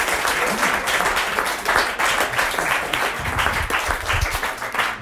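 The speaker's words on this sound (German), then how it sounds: "Einen großen Applaus für diese grandiose Idee." Audience applause at a FluxFM radio show event in Friedrichshain, steady dense clapping that fills the whole stretch at a loud, even level, with a few voices mixed into the crowd noise.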